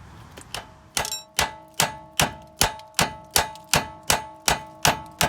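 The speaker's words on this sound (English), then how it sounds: "The hub assembly being hit, that piece came off" A hammer strikes a wheel hub assembly on a 2005 Chevy Tahoe about a dozen times in a steady rhythm, each blow a loud, close metallic clang with a brief ring.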